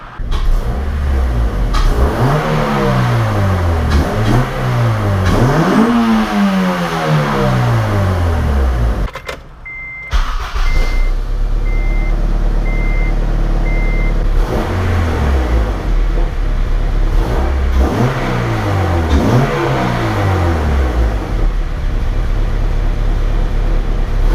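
Car engine with a newly fitted cold air intake revving repeatedly, loud rising and falling sweeps in bursts, a brief pause, then more revs, up close.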